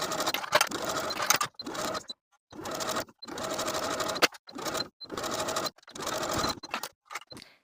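A sewing machine top-stitches the hems on the legs of elastic-waist shorts: repeated runs of fast, even mechanical whirring, each a second or so long, broken by short silent pauses, close and clear.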